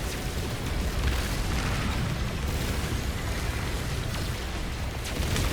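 Video game cannons on a ship blown apart by a steady barrage of deep, rumbling explosions that run together into a continuous loud roar with no clear pauses.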